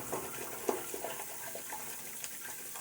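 A tap runs steadily to rinse soap from a natural-hair shaving brush, making a continuous close hiss and splash with small gurgles as the brush is worked under the stream.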